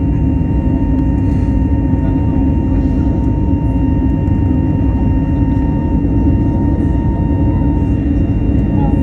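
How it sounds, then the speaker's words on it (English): An EasyJet airliner taking off from Luton airport produces a steady, broad roar that fills the whole stretch, with faint voices in the background. "That is a beautiful takeoff."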